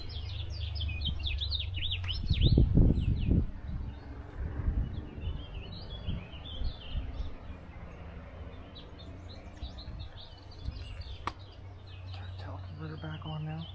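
Small birds chirp and twitter in quick, high bursts along a park trail. The calls are fairly clear but not close, and they continue under a person talking and low outdoor rumble.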